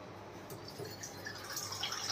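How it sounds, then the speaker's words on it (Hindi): Water poured in a small amount into a strained green chili mixture while making kadhi, a soft, steady trickle with faint dripping splashes close by and no talk. "इसमें पानी डालना है"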